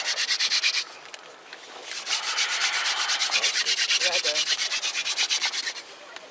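Rhythmic rasping of a wooden hand drill spinning against a wooden board, a steady back-and-forth friction that pauses briefly, then continues at a quick even pace.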